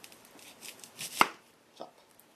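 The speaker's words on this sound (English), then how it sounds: "Now our first step is to chop an onion" A knife chops an onion on a cutting board in a home kitchen, with one sharp, close chop standing out among a few lighter taps and scrapes.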